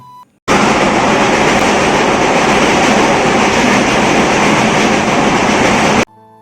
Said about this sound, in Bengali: দেখুন ট্রেনের আওয়াজটা আপনারা কানে শুনুন কি ভয়ঙ্কর আওয়াজ